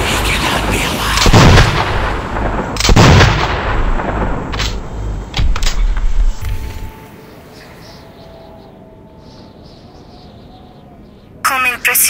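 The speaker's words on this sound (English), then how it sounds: "The missiles are in flight!" Missile launches in the video game Metro 2033: two heavy booming blasts with long roaring tails in the first seconds, a third lighter burst, then a quieter rumbling lull before a brief sharp crackle at the end.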